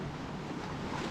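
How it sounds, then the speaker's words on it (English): Sea waves wash against rocks along a seaside promenade, a continuous broadband rush of surf mixed with wind, moderately faint and with no voices. "just watch the waves for a minute or two, hitting the rocks down here, maybe splashing us a little"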